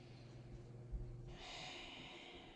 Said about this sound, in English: 2 more exhales here.